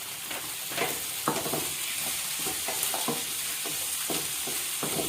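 Ginger and tomato sauté in a kadai for kadai paneer masala, a continuous close sizzle with repeated scraping clinks from stirring, heard alone without voices.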